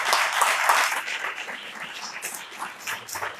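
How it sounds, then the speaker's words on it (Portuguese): Applause from a church congregation swells loudly at first, then thins into scattered, softer clapping that carries on steadily, with no speech over it. "Vamos aplaudir Jesus?"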